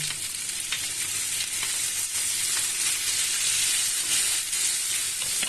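Avocado and pasta fry in a pan with a constant, loud crackling sizzle, steady throughout with faint stirring scrapes.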